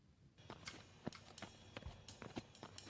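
Horse hooves clip-clop at a steady walking pace, close and fairly distinct, with a faint background bed under the beats.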